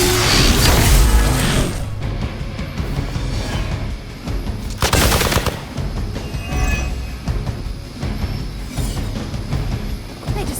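Heavy gunshot blasts in the Marvel's Midnight Suns game, booming impacts and crashes set against dramatic cinematic effects, with one loud burst at the start and another near the middle.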